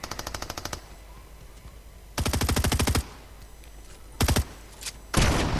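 Submachine gun fire in the video game Fortnite: rapid automatic bursts, one opening burst, a longer sustained burst in the middle, then two short bursts and a final loud burst, close and punchy.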